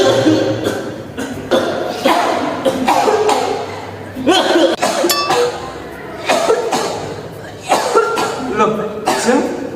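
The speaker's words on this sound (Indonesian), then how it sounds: "kok ikut-ikutan batuk?" A person coughs several times in short bursts while others talk nearby, with light laughter and a faint clink in between.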